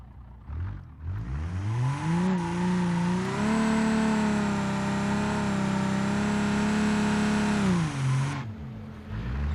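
A car engine in BeamNG.drive on very grippy tires, revved hard during an attempted burnout. It climbs to a loud, sustained high-rpm howl, holds there for several seconds, then drops back.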